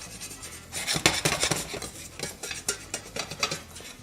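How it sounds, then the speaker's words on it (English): Metal utensil scraping and stirring churro dough against the bottom of a pan, a busy run of scratchy, clattering strokes at close range with no talking. "So as long as it's still sticking, you're still scraping."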